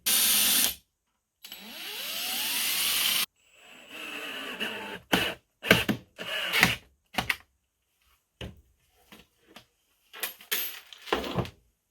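Screws are driven into a vintage camper bird house, heard as a close powered drill whirring in two sustained runs, followed by scattered clicks and knocks from handling.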